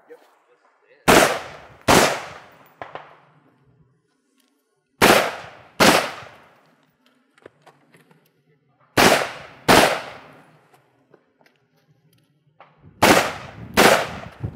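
Sharp rifle shots during a movement shooting drill, fired in close pairs: two quick bangs, a pause, another pair, repeated four times, each crack loud and ringing out with a decaying tail.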